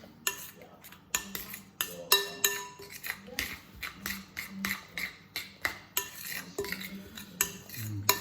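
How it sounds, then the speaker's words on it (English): A spoon beats sweetcorn fritter batter in a bowl, scraping and clinking against the sides in a steady rhythm of close, repeated strokes; nothing else is heard. "Give it a good stir because you want all of the flour to mix in."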